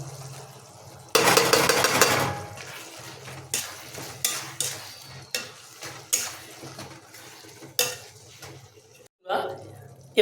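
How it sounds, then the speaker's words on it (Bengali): Ground spices stirred into onion, ginger and garlic frying in a pot, a loud burst of sizzle followed by repeated scraping spoon strokes against the metal, steady frying hiss underneath. "পেঁয়াজ আদা রসুন কষানো হয়ে আসছে, এবার এর মধ্যে আমরা যোগ করব গুঁড়ো মশলা"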